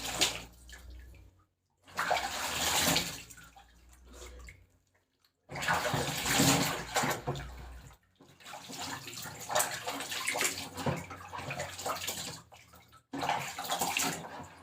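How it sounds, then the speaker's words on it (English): Lukewarm tap water splashing as a face is rinsed over a basin, bursts of loud close splashing and running water separated by short pauses, no talk. "It's time now to rinse my face with lukewarm water, as I said."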